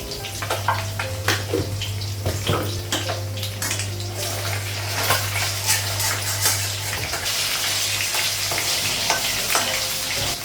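Oil sizzles and crackles steadily in a pan, with occasional spatters and a low hum beneath, close by and without speech.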